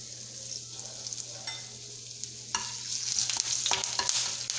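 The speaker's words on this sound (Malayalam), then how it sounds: "ഇപ്പം ഇവിടെ എണ്ണ ചൂടായിട്ടുണ്ട്. നമുക്കാദ്യം 1 തണ്ട് കറിവേപ്പില ഇട്ട് കൊടുക്കാം" A sprig of curry leaves drops into hot oil in a pan for an okra curry with coconut milk, building from a quiet hiss into a bright, crackling sizzle with stirring scrapes, close and without talk.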